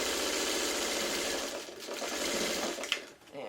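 A sewing machine runs a quilt block through in a steady mechanical whir that slows and stops partway, then restarts briefly with a small clack near the end.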